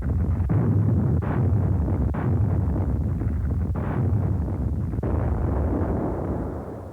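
A naval barrage laid down by warships in the Pacific during World War II's Aleutians campaign: a continuous loud, low rumble of heavy gunfire with repeated booming surges, sounding like old archival film audio with no speech.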